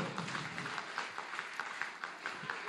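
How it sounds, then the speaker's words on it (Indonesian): Applause from an audience of about a hundred students at the opening of a training session, a steady dense patter of many hands clapping at moderate volume, fairly distant and without talk over it. "Ya, tepuk tangan dulu."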